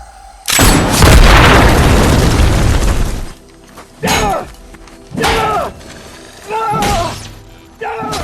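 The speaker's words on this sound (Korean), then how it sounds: "메이슨은 또다시 지뢰를 이용해 폭탄을 설치하고 BR1이 다가오자 총을 쏴 폭탄을 터뜨립니다" A bomb detonates in a sci-fi film battle with a killer AI robot, a loud booming blast with rumbling debris lasting about three seconds, followed by several shorter sharp bursts and whooshing hits.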